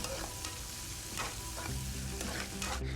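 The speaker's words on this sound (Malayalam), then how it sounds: "നമ്മൾ നേരത്തെ കണ്ടിച്ചു വെച്ചിരുന്ന ഇഞ്ചി, പച്ചമുളക്, ഒന്ന് നമുക്ക് ഇളക്കിയെടുക്കാം." Chopped ginger and green chillies with a little dried red chilli frying in a pan, a steady, close sizzle with light scraping strokes of a spoon stirring through it and no voices.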